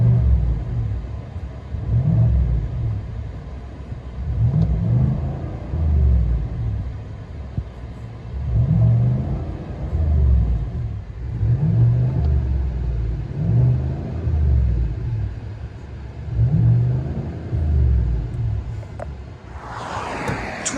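A 2023 Chevy Silverado LTZ with a 6.2L V8 and Borla S-Type cat-back dual exhaust, heard from inside the cab: a deep, muffled engine rumble that swells and eases in repeated revs, steady and moderately loud.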